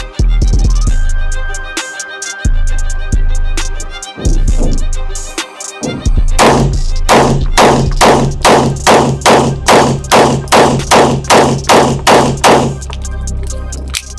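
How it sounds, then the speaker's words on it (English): Rapid pistol fire from a subcompact handgun at an outdoor range, a string of about fifteen sharp loud shots in quick, fairly even succession after a few earlier isolated bangs. "we're gonna do 15 shots in under 15 seconds with this subcompact"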